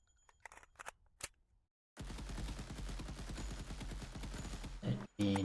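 Rapid automatic gunfire from a weapon in an Unreal Engine 5 top-down shooter game, preceded by a few scattered single shots and a short silence, then a dense, loud, evenly spaced burst of rounds lasting about three seconds.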